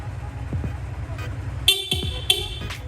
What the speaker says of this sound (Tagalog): pabusina naman, stock horn